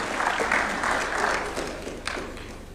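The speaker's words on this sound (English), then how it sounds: "Let's welcome him with a warm clap, please." Audience applause at a national vision event led by the Kenyan president, a dense steady patter of many hands filling the room at moderate loudness for a few seconds before fading slightly.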